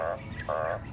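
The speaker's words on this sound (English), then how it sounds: "obviously the frogs are making an enormous noise, a particularly attractive song" Frogs and birds call together outdoors on a safari drive, two short bursts of tonal croaking close by, brief and fairly faint.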